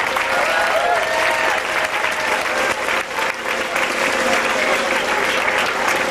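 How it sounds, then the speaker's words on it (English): Wedding guests applaud a ring bearer, junior bridesmaids and flower girls, with dense, loud, continuous clapping from a large crowd that fills the whole stretch evenly. "how about a round of applause for your very handsome ring bearer and your very beautiful junior bridesmaids"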